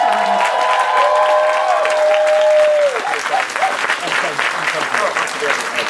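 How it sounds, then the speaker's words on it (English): A theatre audience claps in dense, sustained applause at a 24-hour theatre event, loud and close, while a voice speaks over the start. "give the writers, directors, and actors another big round of applause"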